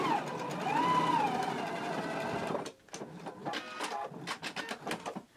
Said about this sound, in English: I'm gonna go ahead and stitch these down at a 5/8 inch seam allowance